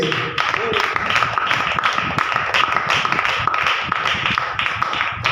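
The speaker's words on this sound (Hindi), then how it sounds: "अब प्रभु को धन्यवाद की ताली दे।" A church congregation claps together in thanks to the Lord, a dense, steady wash of many hands filling the room with no pause throughout.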